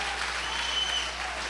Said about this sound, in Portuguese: Você pode aplaudir o Senhor Jesus nesta hora?